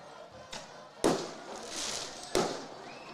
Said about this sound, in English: that's enough to hear some more fireworks.